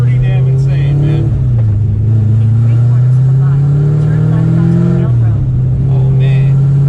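An 800HP supercharged Corvette Z06 in stealth mode, its low engine drone rising and falling with throttle inside the cabin, loud and continuous, with a voice talking over it.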